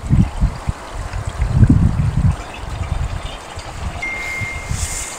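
Sewage water pouring into a stream, a steady gurgling trickle with low splashing bursts, close and fairly loud, running continuously without voices.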